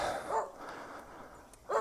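A guard dog barking a couple of short, moderately faint barks near a garage motorcycle project, separated by a quiet stretch.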